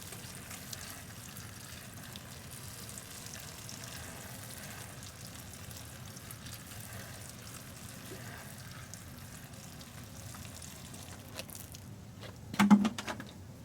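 Water poured onto the soil around a fig tree, a soft, steady trickle and patter close by, ending in a short louder splash and a few thumps.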